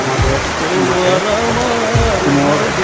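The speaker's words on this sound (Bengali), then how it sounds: "অনেক বৃষ্টি হচ্ছে" Heavy rain pours down during a storm, a loud, steady, close wash of noise that never lets up, with a faint low rumble beneath it.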